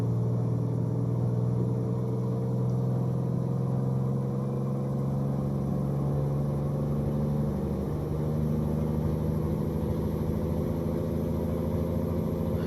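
Steady low drone of a Kenworth K100E truck motor heard from inside the cab, loud and continuous, shifting pitch slightly partway through, with no talking.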